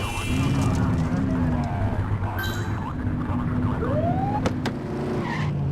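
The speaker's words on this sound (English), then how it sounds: "Get on their tail and flip the siren." A police car siren in the video game The Precinct wails over a steady engine drone, with a rising whoop near the end, continuous and fairly loud.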